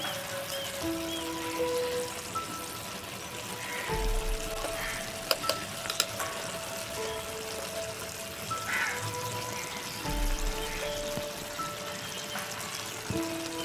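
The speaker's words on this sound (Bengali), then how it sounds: "একটু একটু করে আমি দিয়ে দেবো এখানে ডাল বাটাগুলো।" Ground lentil paste drops bit by bit into simmering ridge gourd liquid in a village Bengali kitchen, giving a steady soft sizzle and bubbling, with a few faint plops and utensil clinks and no talk.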